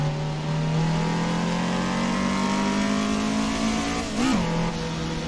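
A Toyota race car engine in Assetto Corsa holds a loud, steady high-revving drone close by, then briefly dips and rises in pitch through a gear change near the end.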